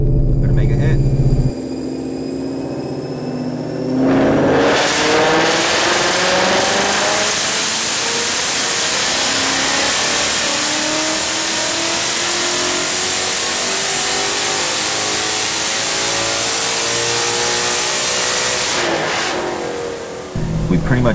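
A Coyote V8 in a Ford Mustang fitted with a ported 2018 intake manifold starts idling, then climbs into a long, loud, rising rev on a dyno pull before dropping back, heard up close.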